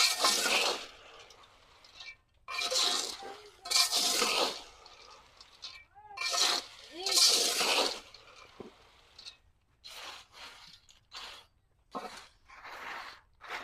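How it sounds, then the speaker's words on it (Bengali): Roasted peanuts are scooped from a pan into a container in a series of rattling, scraping bursts, each a second or so long, separated by short quiet pauses. "এখন এই বাদামগুলো তুলে নিচ্ছি, পাত্রে রাখতেছি।"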